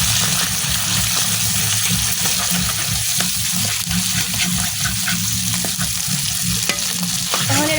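Onion, chili and fermented dried fish dropped into hot oil in a wok sizzle loudly and continuously up close, with frequent scraping strokes from stirring.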